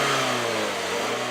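A car with a brand-new 157-horsepower L4 engine accelerates, its mid-pitched engine note rising steadily and loud and close throughout, with no voices.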